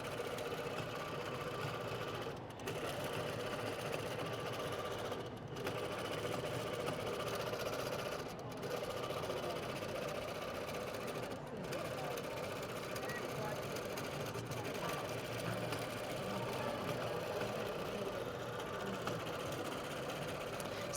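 Computerized quilting machine couching yarn with a glide foot at a quilt guild show, a steady fast mechanical stitching chatter running continuously with brief regular pauses every few seconds, fairly quiet with background hall noise.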